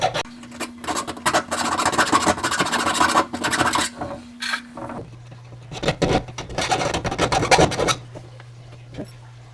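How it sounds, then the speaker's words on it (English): A small hand file rasps inside the cut end of a copper water pipe, deburring it in quick, uneven scraping strokes with brief pauses, close and fairly loud, over a faint steady hum. "I'm just using a little file."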